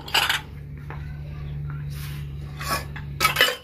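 Dishes and teacups left around a house after tea are gathered up, giving several sharp clinks and clatters of crockery in short bursts over a low steady hum, with quiet gaps between.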